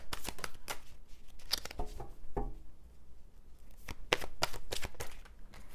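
An Oracle card deck is shuffled by hand in repeated quick riffling bursts, close and crisp, with a short pause in the middle before another run of brisk shuffles, no talking.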